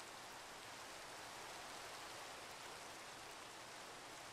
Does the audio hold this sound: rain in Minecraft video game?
yes